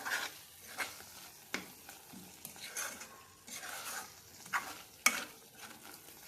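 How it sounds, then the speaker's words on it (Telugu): A spoon stirs a spice mixture of coriander powder and chili powder in a pan. Steady scraping and sizzling run throughout, broken by sharper clinks of the spoon against the pan, close up and moderately quiet. "ఇట్లా మంచిగా మిక్స్ చేస్తూనే ఉండాలి,"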